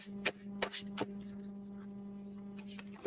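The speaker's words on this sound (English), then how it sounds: "Give this deck a good shuffle." A deck of cards is shuffled by hand, with several crisp, papery riffling bursts in an uneven rhythm over a low, steady background hum.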